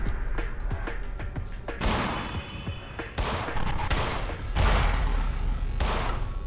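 Several loud gunshots ring out from the horror video game In Sound Mind, spaced apart with sharp cracks and booming tails, accompanied by lighter clicks and thuds in between and no one speaking.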